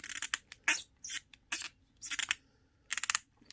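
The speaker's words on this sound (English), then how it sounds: "you can hear that squeak and listen to that" Squeaking from the leg joint of a Storm Collectibles Axel Stone action figure from Streets of Rage 4, heard as several short, sharp, high squeaks in irregular bursts as the limb is worked, close and alone with no talking.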